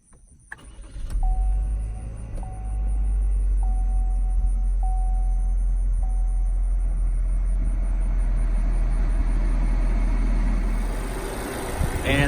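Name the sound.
2019 Chevy Equinox 1.5 liter 4-cylinder engine starting, push-button start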